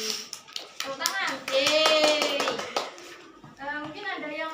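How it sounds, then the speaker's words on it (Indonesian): A classroom of children claps in a quick, sharp burst of hand claps. Kids' voices chatter alongside, and the clapping gives way to talking near the end. "Tepuk tangan."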